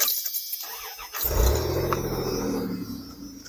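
A high-mileage Dodge Dakota pickup engine cranks briefly with a whirring starter, then catches and settles into a loud, steady, rumbling idle close by.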